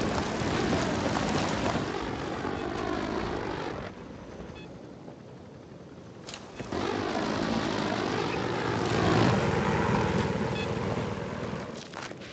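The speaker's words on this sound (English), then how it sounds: "Spotted a hostile helicopter," Hostile helicopter flying overhead in the video game Battlefield 3 on the Nebandan Flats map, a steady loud rotor and engine roar that dips briefly mid-clip, then swells back to full strength as it passes close.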